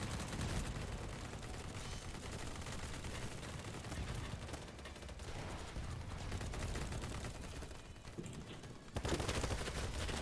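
Sustained bursts of automatic gunfire in the online shooter BattleBit, a dense crackling fusillade that runs steadily throughout and gets louder near the end, with faint player chatter.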